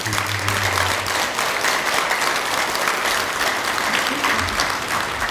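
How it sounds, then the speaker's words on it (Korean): Audience applause fills a Buddhist dharma talk at a Saturday temple service, a dense, steady patter of many hands clapping continuously at even loudness throughout. "틱낙한 선생님한테 박수 한번 칠까요?"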